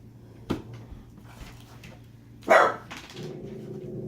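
Dogs bark in sharp, separate bursts: a short yap near the start, then a louder, rougher bark a couple of seconds later followed by a trailing whine, close by in a quiet indoor room.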